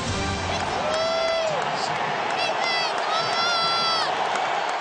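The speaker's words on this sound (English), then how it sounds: "This crowd is really revved up." A football stadium crowd roars through a 1999 AFC divisional playoff between the Titans and the Colts, a steady loud wash of cheering and whoops with whistles rising over it and a commentator talking on top.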